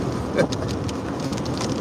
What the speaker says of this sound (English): there's a lot of gusts of wind right now